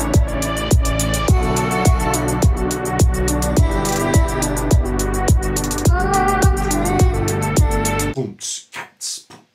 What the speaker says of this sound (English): I just want this thing to be filled up with percussion loops.